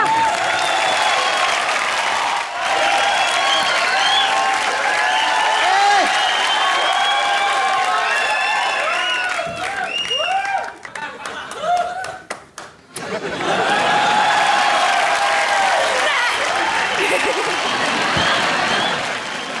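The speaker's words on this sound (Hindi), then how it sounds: "जोरदार तालियां" A TV comedy show studio audience bursts into loud applause, thick clapping mixed with whoops and chuckles that dips briefly midway, then surges back strong.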